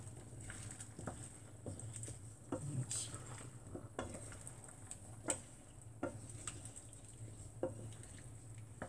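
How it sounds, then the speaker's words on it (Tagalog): Squash (kalabasa) being stirred in coconut milk in a pan, with soft scraping strokes and light ticks recurring every second or so over a steady low simmering bubble, close and fairly quiet, no voices. "Haluin ang ating kalabasa."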